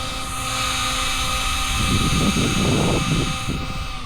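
A Traxxas XRT RC car drives fast and pulls a wheelie on asphalt, its motor giving a sustained high whine with a rougher, louder surge partway through, heard alone at moderate distance.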